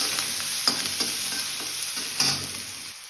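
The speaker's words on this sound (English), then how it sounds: "add chopped ginger and garlic. Add onions" Chopped onions, ginger and garlic stir-fry over high heat in a continuous hissing sizzle, punctuated by a few scraping stirs and light utensil knocks, with no speech.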